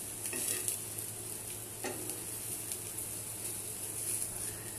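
Eggplant slices fry in hot oil, giving a steady, quiet sizzle with a few soft stirring scrapes and no talk.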